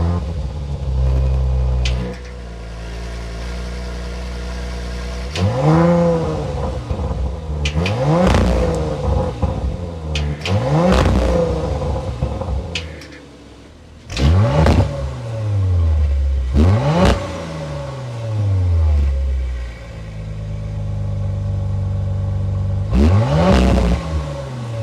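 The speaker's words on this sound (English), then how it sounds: "start it up so we can hear that exhaust note." A 2022 Audi RS5 Sportback bi-turbo engine revs repeatedly, each blip rising sharply and falling back to a deep idle burble, loud and close through the exhaust.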